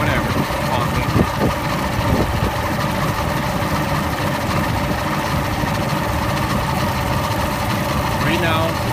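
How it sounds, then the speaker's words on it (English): A boat engine idles a little high with quick start engaged, running at about 1400 rpm, a steady continuous drone close by from start to finish. "Right now, the quick start is on, so it's idling a little higher."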